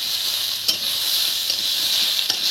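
Food stirred in a frying pan, a steady close sizzle with a few soft scrapes of the spoon, no voices.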